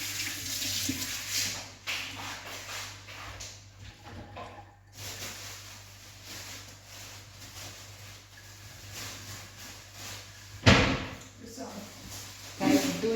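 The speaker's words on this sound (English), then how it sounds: "Let me wash my hands so I can scoop up this." A kitchen tap runs as hands are washed mid-way through making puff puff dough, the water splashing continuously beneath ongoing talk, with a couple of knocks from nearby fixtures.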